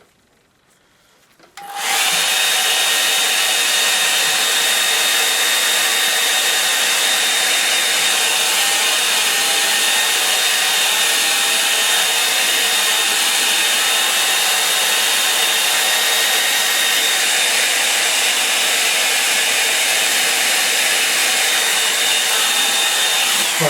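A hair dryer blows on a watercolour painting of late autumn light over Seven Islands, switching on after a quiet moment into a loud, steady, close whirring roar that holds without a break.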